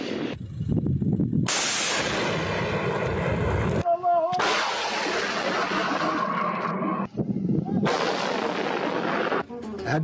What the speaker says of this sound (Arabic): قصف القاعدة بشكل مكثف